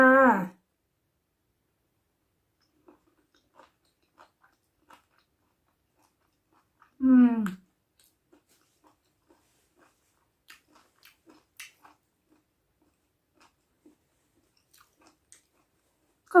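Crunchy cooked bull testicles with spring onion being chewed, faint scattered crunching bites close up between two short bursts of a voice.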